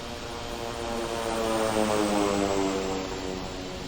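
A simulated airliner taking off from Sydney runway 34 left in the Infinite Flight game, with a steady engine roar that swells and then holds as it powers down the runway, heard alone.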